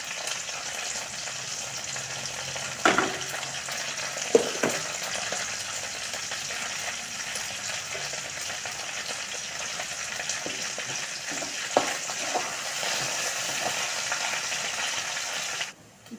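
Curry leaves, mustard seeds and cumin frying in hot oil for lemon rice, a continuous crackling sizzle with a few louder pops and stirring scrapes scattered throughout, no talking.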